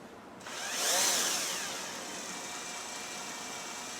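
A steady mechanical whir as a power drill in reverse spins a Land Rover Defender speedometer cable, spinning up sharply, peaking, then settling into a constant high-pitched drone.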